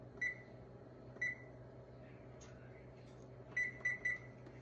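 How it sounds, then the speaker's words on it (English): Home kitchen oven control beeping while the preheat is set to 425: single short electronic beeps, then a quick run of three, fairly faint over a low steady room hum. "what we're gonna do is we're gonna put our oven on to 425"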